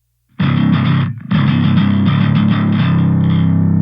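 Heavily distorted bass guitar run through a JST Hellraiser plugin gives a clanky modern metal tone. Chugging riffs enter after a short silence, break off briefly, then continue loud and dense to the end.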